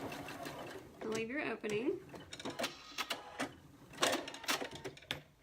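A sewing machine runs a short back stitch on a patchwork pin cushion, its quick mechanical bursts sitting under a woman's close, steady talking.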